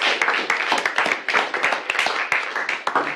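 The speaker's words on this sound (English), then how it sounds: "Round of applause for us." A few people clap together in a quick round of applause after a Bash script run on Ubuntu Linux, with close, uneven hand claps and cheering voices mixed in.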